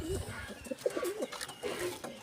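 Grizzle pigeons coo in a run of soft, rolling calls, several warbling phrases close by over a faint background.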